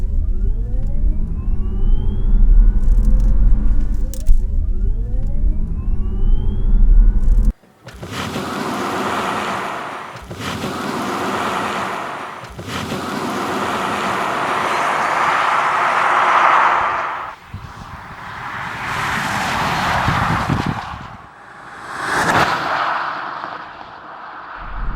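A Tesla's electric motor whines and rises in pitch, then a loud rush of wind and road roar surges as it accelerates hard.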